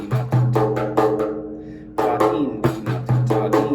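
A frame drum played in a repeating tha di ghi na thom pattern, with struck strokes forming a steady, close rhythmic cycle with ringing low tones, heard alone.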